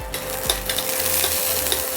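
Mustard seeds spluttering in hot cooking oil for a tempering, a steady bright sizzle with scattered small pops and crackles, close and continuous with no voices.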